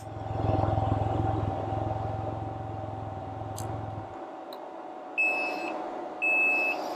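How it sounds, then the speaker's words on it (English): A 2022 Can-Am Ryker Sport idles and then shuts off, its engine rumble fading before a high electronic warning tone sounds in two short beeps against the quiet hum of a still-running fan. "Now, it's going to beep until I put it in park."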